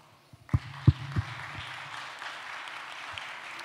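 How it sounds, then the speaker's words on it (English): Applause from an audience at an international aviation conference at Cluj airport, starting with a few loud, separate claps and then settling into a steady, moderate wash of clapping. "big applause for Marcel Rivalski."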